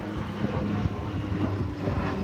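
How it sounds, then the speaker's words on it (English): Steady propeller drone of a small seaplane passing overhead in bad weather, a loud continuous engine hum with a low throbbing tone. "Over my head, a seaplane."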